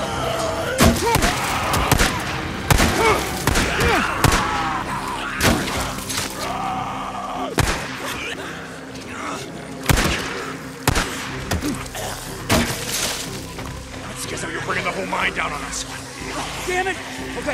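Gunfire in the game Days Gone sounds as a string of sharp, loud cracks and impacts, some in quick succession, scattered among thuds and breaking sounds, with voices talking through most of it.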